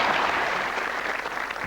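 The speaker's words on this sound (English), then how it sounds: "Give him a big round of applause." A studio audience on the Irish edition of Who Wants to Be a Millionaire? applauds a contestant in a steady, dense, full-volume wash of clapping that holds throughout, with no voices over it.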